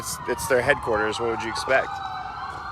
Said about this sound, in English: That's just an ambulance.